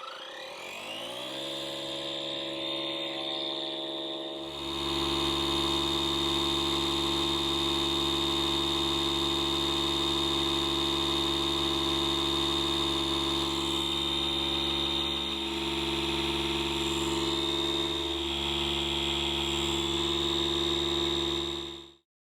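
A DeWalt 20 volt cordless battery inflator starts up and runs, its motor buzzing loud and steady with a constant whine for about twenty seconds before cutting off, no voices.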